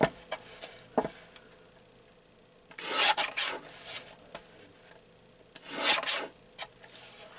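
A paper trimmer slices paper at the edge for a junk journal collage, making several short raspy sliding strokes with light clicks, close and otherwise quiet.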